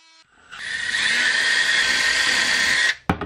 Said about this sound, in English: I'm going to go ahead and use a multi-tool, vibrating saw,